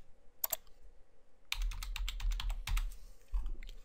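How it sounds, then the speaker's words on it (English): Close, clattering keystrokes on a computer keyboard typing a search term into Bible software, a couple of isolated taps followed by a quick burst of rapid typing with a short pause and a final few keys. "I'll open the book by typing pulpit in the search bar."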